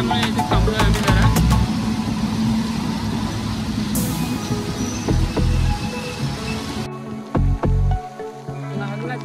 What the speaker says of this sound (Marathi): जरा पाऊस आला आहे